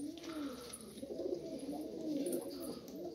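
Pigeons coo steadily in a coop holding hens and young squabs, a continuous soft, low warbling at close range with no talk over it.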